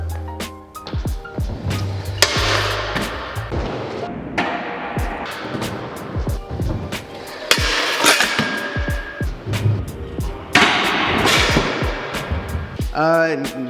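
A scooter grinds along a square flat bar rail in a skatepark. Sharp metallic clacks and impacts repeat amid sustained scraping, loud and close, and no one speaks.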